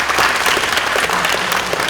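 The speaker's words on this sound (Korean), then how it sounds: "이 세 분들, 네 분들한테 다시 한번 박수 한번 부탁드리겠습니다" Audience applause at a symposium in a youth marine education center in Yeosu, a steady, dense clapping from a large crowd filling the room for the whole moment, close and loud with no talk.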